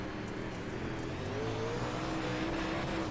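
UMP modified race cars on the Weedsport dirt track in iRacing, a steady, continuous engine drone with a faint rising and falling whine as the cars run laps, with no talk over it.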